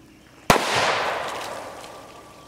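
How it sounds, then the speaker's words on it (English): A 9mm CCI No. 4 shot shell fires into a water jug, giving one sharp, loud crack followed by a long, slowly fading roar and hiss as the spray settles. "9mm CCI shot shell number 4."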